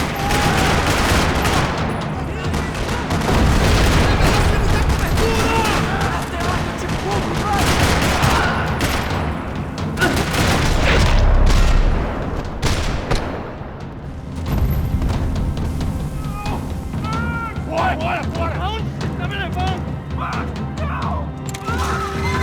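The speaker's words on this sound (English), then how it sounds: "Another parking lot rattling with gunfire." Gunfire in a parking lot during a Max Payne 3 shootout: dense bursts of automatic fire and crashing impacts come in loud waves, easing toward the end with scattered shots and game effects.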